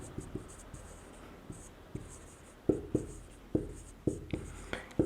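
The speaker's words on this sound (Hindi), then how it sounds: "यहाँ मैं एक पॉइंट लिखता हूँ कि क्रिस्टल जालक" Chalk or marker tapping and scratching across a board during a Hindi chemistry lecture on crystal lattices, with irregular sharp strokes that grow louder midway, close and mostly alone with little talk.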